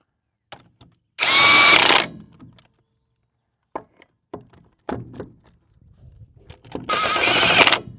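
Power tool driving trailer wheel lug nuts, two loud sustained bursts of roughly a second each, separated by scattered clanks and taps of handling, close and with no talk.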